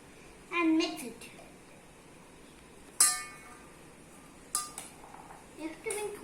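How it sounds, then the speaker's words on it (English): A spoon stirs fruit salad in a bowl as children prepare it, producing a few sparse, separate clinks and scrapes against the dish, spaced a second or more apart, with quiet voices around them. "And we have to take a spoon and mix it."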